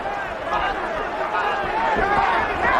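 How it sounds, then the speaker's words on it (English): A boxing crowd at a WBA middleweight title fight cheers for Collins, a continuous murmur of voices and shouts swelling slightly, heard at a distance behind the arena ambience. "the crowd getting behind Collins once again"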